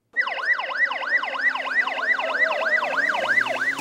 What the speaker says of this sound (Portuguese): O som da sirene é só um sinal.